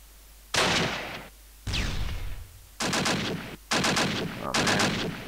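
Gunfire in the Close Combat World War II strategy game: several loud bursts of shots, each lasting about a second and separated by short gaps, one with a descending whistle.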